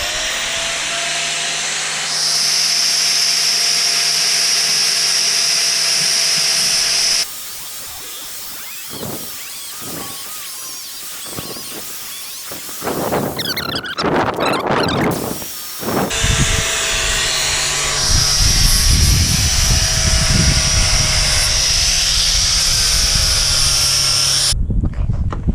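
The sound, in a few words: grinder cutting out boat through-hull fitting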